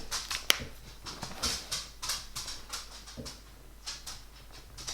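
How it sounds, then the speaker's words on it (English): A small dog's feet patter across an indoor floor in light, irregular taps, fairly close and faint, with no talking. "I'm actually minding my mum's wee dog as well, so you have double the sound of pattering feet."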